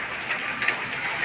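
Rain falling steadily outdoors, a soft, even wash of patter at moderate distance with no other sounds over it.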